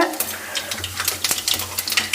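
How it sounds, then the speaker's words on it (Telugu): Cumin and fenugreek seeds crackling in hot oil in a pan, rapid small pops and spits over a soft sizzle, close and moderately loud with no talk. "ఆయిల్ అయితే వేడైందండి పోపు దినుసులు వేసుకుందాం జీలకర్ర మెంతులు"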